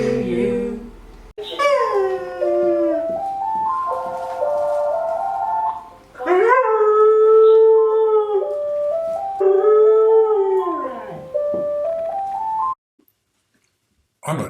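A dog howls loudly and near at a birthday gathering, a long series of rising and falling wails with short breaks, ending in a brief silence.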